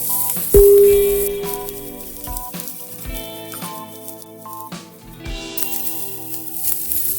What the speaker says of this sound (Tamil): உடைச்ச மிளகு, பொடியாக கட் பண்ண முந்திரி பருப்பு, பொடியாக கட் பண்ண பச்சை மிளகாய் இதையும் சேர்த்து இதை நல்லா வறுக்கணும்.